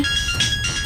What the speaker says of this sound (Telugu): బావ ఫోన్ చేస్తున్నారేంటి?